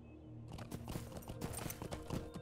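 Horse hooves clop in a quick, regular rhythm in the online game Lord of the Rings Online, a steady close trot of hoofbeats over faint ambient sound.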